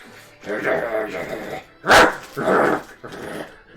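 A voice imitates a warg, a monstrous wolf, growling and barking in bursts: a snarling run, then a sharp loud bark, then more rough growls, close and forceful.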